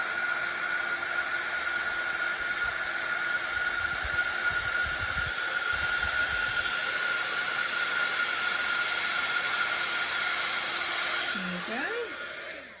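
Heat gun blowing hot air to melt embossing powder for a black ice stamping effect, a loud steady whooshing hiss that runs without a break and fades at the very end, with brief voices in the background.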